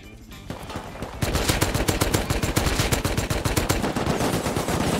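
A gun sprays a full magazine in Rust, a dense, loud, rapid stream of shots that kicks in after a quieter second and keeps hammering to the end.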